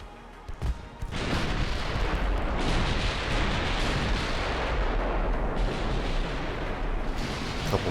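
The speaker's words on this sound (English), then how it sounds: "And then the battleship 14-inch shell" A battleship's 14-inch shell fires in the naval video game Ultimate Admiral: Dreadnoughts, a sharp boom breaking in after a short pause and then rolling into a long, loud, rumbling roar that lasts several seconds.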